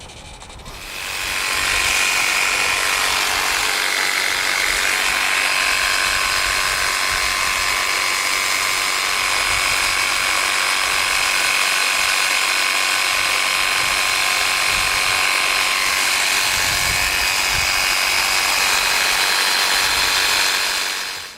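A continuous high-pressure hiss of a Flow Max 40V portable power washer spraying, starting after a brief pause and holding steady and loud for about twenty seconds.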